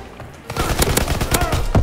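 Rapid automatic gunfire in a Call-of-Duty-style D-Day online shooter match, a loud close burst of many quick shots under the player's voice.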